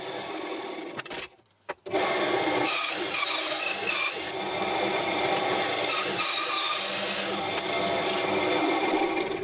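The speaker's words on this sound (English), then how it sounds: "then I can cut out the shapes on my bandsaw" A bandsaw cuts shapes from birch plywood with a dense, steady whirring rasp that stops briefly near the start and then runs on loud and close.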